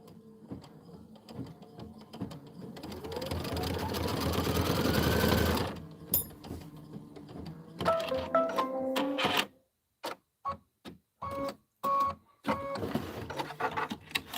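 A sewing machine stitches fabric for a quilted snowman pillow block, rising in speed to a loud, sustained whirring run, then stopping and restarting in short, choppy bursts of stitching separated by brief silences.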